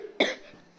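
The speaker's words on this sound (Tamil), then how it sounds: "சாரி எனக்கு இருமல் இருக்கு அதனால." A single sharp, close cough bursts out and trails off quickly in a quiet room.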